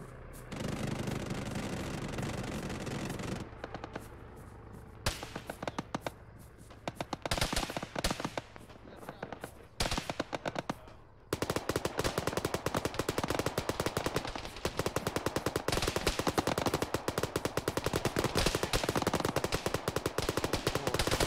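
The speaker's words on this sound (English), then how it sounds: "there's a guy shooting in the second floor of that building northwest" Automatic and single-shot gunfire in the military video game ArmA cracks in rapid bursts with short gaps, then turns into a near-continuous stream of dense shooting for the second half.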